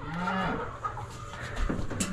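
Backyard farm chickens cluck and murmur inside a coop on a cold morning. The calls are soft, low and close by, with a few short squawks near the end, and there is no talking.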